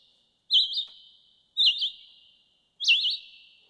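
A theremin imitates a bird call in three separate warbling chirps, each a quick high wavering glide, clear and close, with no talk.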